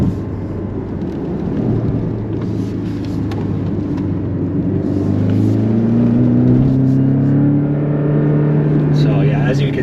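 A 2023 Porsche Cayman's engine hums steadily from inside the cabin as the car drives into a roundabout, its pitch climbing smoothly as it accelerates, with people talking over the continuous engine drone.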